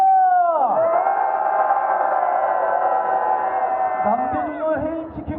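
Candlelight rally crowd in Gwangju letting out one long unison roar, a sustained loud mass of voices holding for several seconds before breaking into scattered shouts.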